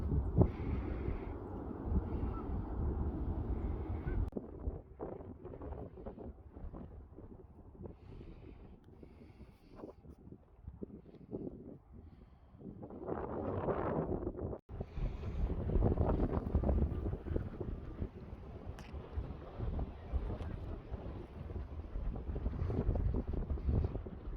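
Strong wind buffets the microphone outdoors during a wildlife filming outing near water, a steady low roaring rush with gusts that swell louder in the second half, no voices.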